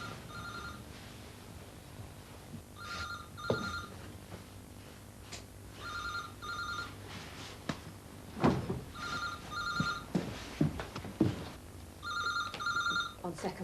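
A telephone rings indoors in repeated double-burst trills spaced a couple of seconds apart, moderately loud, while people talk and move about between and over the rings.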